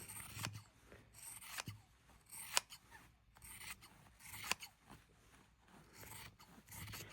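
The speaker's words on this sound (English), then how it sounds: "Best scissors in the whole world is what I'm using. They're called Kai, and they're serrated." Kai serrated scissors trimming material for a laptop carrying case, a run of quiet crisp snips and scraping cuts in an irregular rhythm, close up and alone.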